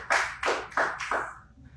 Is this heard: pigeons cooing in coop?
no